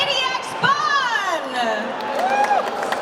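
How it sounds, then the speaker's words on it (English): A crowd at the Blizzard WoW cosplay contest at Gamescom 2025 shouts and cheers loudly, with high whoops and screams rising over general noise and little distinct clapping. "huge applause for"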